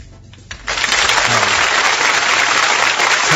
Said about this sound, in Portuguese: Palmas para a Sabrina Tomasi.